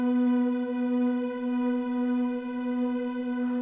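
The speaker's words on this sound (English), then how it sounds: "the keyboards actually fight through the whole album. Like in the verse, they sound like this." Sustained, droning keyboard tone from the verse of a dissonant rock album track, holding one steady buzzy note with a dense stack of overtones at an even level throughout, with no voices.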